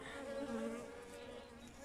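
Honeybees buzzing steadily and close by, a continuous droning hum with a strong low tone and harmonics, beside a hive where bees tremble their wings and bodies.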